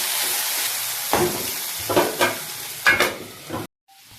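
Potatoes frying in a pan for a vegetarian papaya flower dish, a hissing sizzle broken by several stirring scrapes and bursts before cutting off abruptly near the end.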